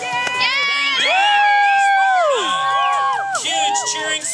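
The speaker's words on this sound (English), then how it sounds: "Huge cheering section over there." A cheering section of young people whooping and yelling for a contest winner at a snowboard rail event, loud sustained shouts with overlapping rising and falling cries close by.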